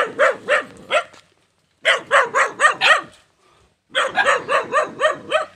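A dog barks in three quick bursts of rapid, yappy barks separated by short pauses, loud and close.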